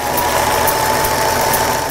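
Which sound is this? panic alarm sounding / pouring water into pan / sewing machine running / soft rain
sewing machine running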